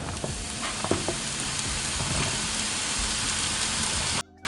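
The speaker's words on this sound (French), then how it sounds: "Je vais les faire ensuite rissoler à la poêle avec un peu d'huile d'olive" Chopped mushrooms fry in olive oil in a pan and give off a loud, steady sizzle with a few crackles and pops. The sizzle cuts out briefly just before the end and then starts again.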